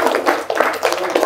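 Brief burst of audience clapping at a startup business meetup, close and fairly loud, a few quick claps mixed with a murmur of voices.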